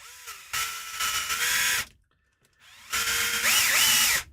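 A power drill whirs in two loud, sustained bursts, each about one and a half seconds long, with a brief quiet gap between them and pitch wavering as the bit bites.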